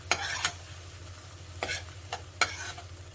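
Spicy stir-fry noodles tossed with liquid seasoning in a pan, three or four distinct scraping stir strokes over a soft continuous sizzle, close up.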